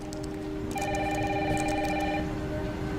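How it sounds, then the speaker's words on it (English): A telephone rings with a repeating electronic tone over steady rain in the background, at moderate loudness and without speech. "Mom, phone."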